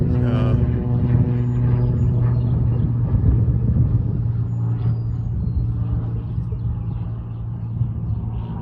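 Aircraft from an airport six or seven miles away: a loud, steady low rumble with a droning harmonic hum that holds throughout, like a plane passing overhead at close range.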